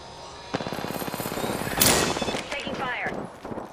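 Rapid automatic gunfire in the battle royale game Apex Legends crackles in dense bursts, with a character's voice and other in-game effects layered over the shots.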